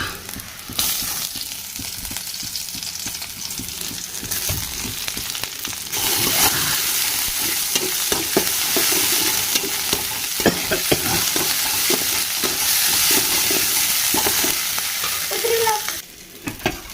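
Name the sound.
onion and garlic frying in oil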